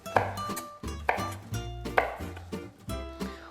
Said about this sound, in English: We're just gonna cut them up, rough chop, and put them in the blender